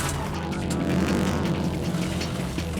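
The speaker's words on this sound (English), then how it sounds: "Our teams race their rally cars in the final challenge." Rally cars race around a rallycross course, including a 1991 Subaru Legacy Turbo build, as a dense, moderately loud engine roar with gravel rumble throughout, no speech.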